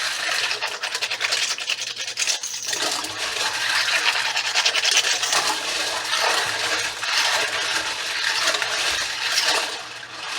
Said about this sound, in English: I'm going to agitate it while it's in the sink.